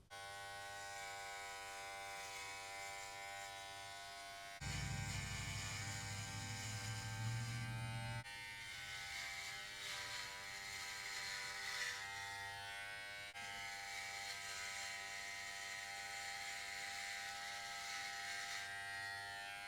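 A Novah hair clipper on its turbo setting, set to the shortest guard position, hums steadily and evenly throughout, with a louder, closer stretch in the middle as it moves near the scalp.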